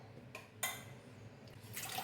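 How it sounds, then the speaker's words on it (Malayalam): Water is poured into a pressure cooker holding soaked lentils for curry, in short splashing bursts with brief gaps, close and fairly quiet, without any talking. "കുറച്ച് വെള്ളം കൂടി ഒഴിച്ചു."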